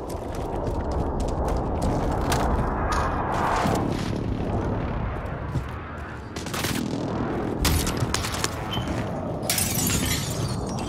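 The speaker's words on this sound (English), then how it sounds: "Enemy precision airstrike. Take cover." A precision airstrike in the video game Warzone: a dense, continuous barrage of booming explosions with sharp shattering cracks scattered throughout, loud and rumbling for the whole stretch.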